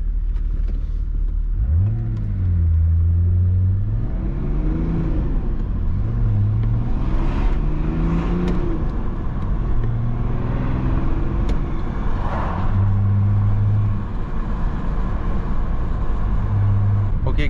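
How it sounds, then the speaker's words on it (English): A remapped BMW E34 525 TDS Touring diesel engine pulls through the gears in city driving, its drone rising in pitch and dropping at each shift, repeatedly, heard from inside the car with occasional talking. "you're revving some old machine with a specific noise of the engine"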